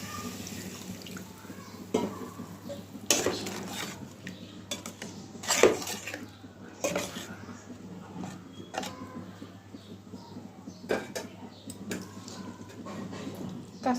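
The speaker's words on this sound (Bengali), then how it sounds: "অল্প একটু জল দিব।" Water trickling and splashing into a cooking pan on a low gas flame, with scattered metallic clinks of a utensil against the pan over a steady low hum, moderately close.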